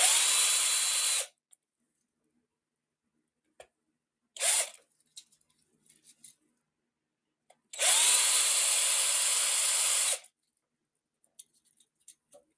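A cordless power drill whirs in bursts while driving screws into a custom figure, one long run of about a second, a brief blip, then a sustained run of a couple of seconds, close and loud with small handling clicks between.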